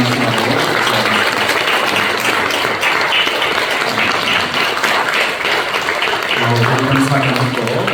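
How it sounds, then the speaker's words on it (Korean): A church congregation applauds newly baptized members during a worship service, a steady, loud wash of many clapping hands throughout, with voices faintly underneath. "이 시간 축하의 꽃다발과 뜨겁게 박수를 해주시면서 감사합니다."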